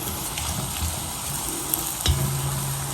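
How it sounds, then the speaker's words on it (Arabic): Finely chopped onion and garlic hit hot oil and sauté with a steady close sizzle, followed by a light stirring clatter near the end. "هون انا مفرمة راس بصل ناعم مع سنين توم، راح اضيفهم على الزيت واخليه يتدبل كويس"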